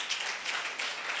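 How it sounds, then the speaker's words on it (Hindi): A short burst of steady audience clapping fills the room, a dense, even patter of many hands at moderate distance with no voice over it. "इस बात के लिए ताली होनी चाहिए।"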